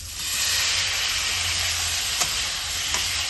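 Onions and pork fry in a wok, giving a steady, loud, close hiss and sizzle throughout with no talking.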